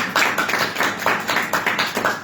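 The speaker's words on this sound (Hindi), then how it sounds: "मार दो तालियां, बजा दो के नाम में" A church congregation claps hands together in steady rhythmic beats, loud and close, a regular pulse of sharp claps with no talking over it.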